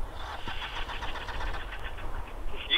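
A sports motorcycle engine cranks and starts on a beach during a dust storm, a close, rough mechanical churn that settles into a running engine.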